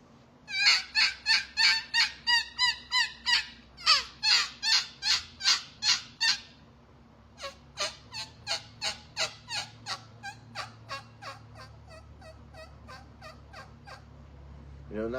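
A turkey call is blown to imitate turkey gobbles, with two long runs of rapid rattling gobble bursts, loud and close, followed by a softer series after a brief pause.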